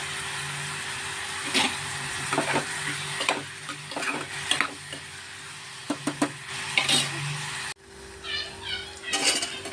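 Salted onions fry in a pan with a soft, continuous sizzle while a spoon scrapes and taps the metal in irregular stirring strokes, fairly close.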